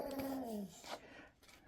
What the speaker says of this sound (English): And we have the shop dog, who's being a brat.